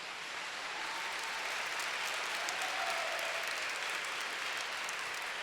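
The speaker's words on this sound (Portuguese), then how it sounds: "Vamos aplaudir a igreja católica?" Congregation applauding during a Catholic church sermon, a dense, sustained clatter of many hands clapping for about five seconds, even in level and heard alone.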